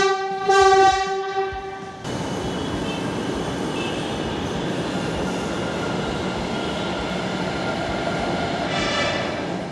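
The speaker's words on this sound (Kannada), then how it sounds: "ವಾಪಸ್ ಇದೇ ಮಾರ್ಗದಲ್ಲಿ ಸಂಚರಿಸಿದ ಚಾಲಕರಹಿತ ಮೆಟ್ರೋ ರೈಲು" A six-coach driverless Namma Metro train runs on its line in Bengaluru. A loud horn blast opens, followed by a steady, close rumble of wheels on rails that continues to the end, with a faint tonal whine late in the run.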